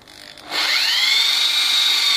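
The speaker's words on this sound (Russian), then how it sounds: "Алюминий сверлится быстро." A roughly 3 mm drill bit bores into aluminium while a sliding door is installed: after half a second of quiet, a loud, steady, high-pitched whine starts and holds close up without a break.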